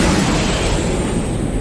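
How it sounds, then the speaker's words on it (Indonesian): A smoke grenade going off in a film scene, a loud, close, hissing burst of noise that fills the whole short moment without pause. "Jong Hyun pun berusaha kabur menggunakan granat asap miliknya"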